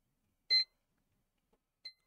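A multimeter in diode mode beeps while probing a Gigabyte RX 6800 XT graphics card with a memory failure: a sharp, clear beep, then silence, then a second, shorter and fainter beep.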